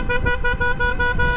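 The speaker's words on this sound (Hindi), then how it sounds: "वो अंकल को मैं हॉर्न दे रहा हूँ इतने सारे" A car horn blares in one loud, sustained honk aimed at a scooter rider in road traffic, with engine noise underneath.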